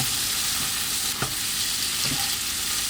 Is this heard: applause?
no